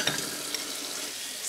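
Running tap water splashes steadily over dishes being rinsed in a kitchen sink, a continuous hiss with faint clinks and no voices.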